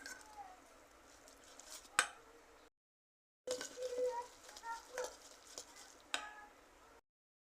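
Raw egg being stirred into noodles by hand or spoon in a bowl, giving soft wet squishing and a few sharp clinks, broken by a brief silent gap.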